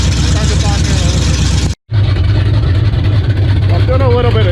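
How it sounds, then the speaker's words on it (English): A 1981 Cutlass with a 455 engine cold-starting after sitting about a week, a brief cutout then settling into a loud, steady, rough idle up close, with a voice talking over it. "I just thought you might want to see a cold start"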